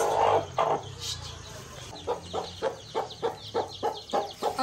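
A hen gives a run of short, clucks close by, loudest in a rhythmic burst of about eight calls toward the end, with some low rustling earlier.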